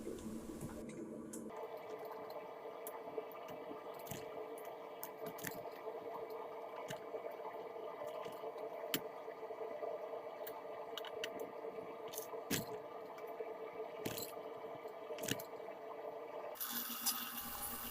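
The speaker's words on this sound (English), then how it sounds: "And quench in water." A hot forged rebar blacksmith's knife is quenched in water, giving a steady, soft hiss and bubbling with scattered sharp crackles and drips that carries on for many seconds at moderate distance.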